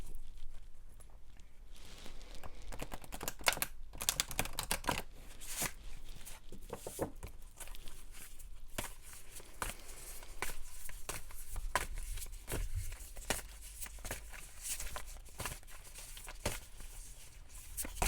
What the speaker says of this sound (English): Let me go ahead and pull some more cards to further add to this message.